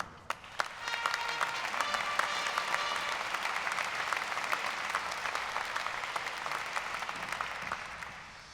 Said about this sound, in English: Your applause for our host